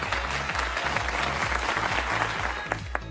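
Audience at a religious debate breaks into loud, sustained applause and cheering, a dense wash of clapping filling the hall with a low rhythmic thump running underneath.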